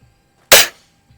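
A single sharp crack from an RWS Diana 34 T06 Classic spring air rifle fired at an outdoor range, loud and close, with a quick decay and no talking.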